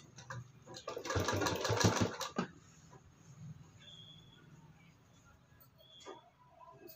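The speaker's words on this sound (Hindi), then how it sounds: "बिल्कुल स्लो मशीन चलाना" A home sewing machine runs slowly while stitching piping onto a long-sleeved blouse, a steady whirring motor burst of about two seconds, then softer intermittent mechanical sounds as someone speaks.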